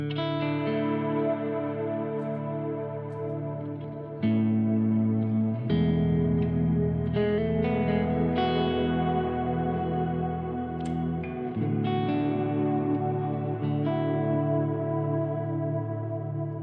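An electric guitar runs through a Strymon reverb pedal on its Bloom engine, with no reverb on the Quad Cortex. Sustained chords and single notes swell into long, shimmering, washy tails, heard alone without talk.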